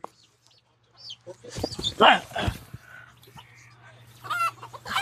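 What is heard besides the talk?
chickens clucking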